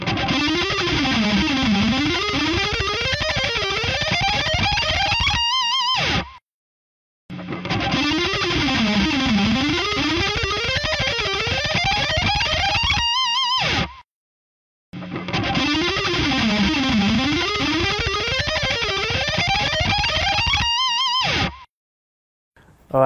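A distorted electric guitar plays a solo at full speed, rapid sweeping runs repeated three times with brief silent gaps between, loud and without talking.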